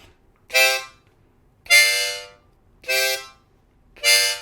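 Four short, separate harmonica notes, each cleanly started with a soft "ta" tongued attack, evenly spaced with silence between them.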